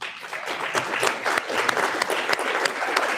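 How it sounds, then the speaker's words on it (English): An audience at an annual fundraiser event applauds, a dense wash of clapping that is steady and moderately loud throughout. "I don't know why you're clapping"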